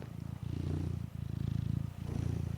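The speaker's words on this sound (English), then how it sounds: "That's the studio cat right there. Some purring going on." A studio cat purrs close up in a steady, rhythmic rumble, its breathing cycles audible with brief pauses between them, alone with no talk.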